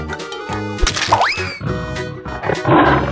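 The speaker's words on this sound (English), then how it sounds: "Tiger." A tiger roars amid a busy mix of animal cries, a rising howl-like sweep and background chatter, loud and close over about three seconds in a chaotic animal fight scene.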